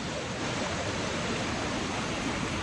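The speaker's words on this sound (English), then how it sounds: "The water's still coming down over here off of the hill." Heavy river water in full flow, a dense steady rushing roar filling the whole clip without pause, close and fairly loud, with no voices.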